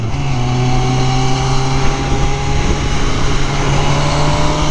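A brand-new motorcycle engine runs steadily while being ridden, a loud, smooth, continuous drone with a constant low hum and wind rush and no pauses.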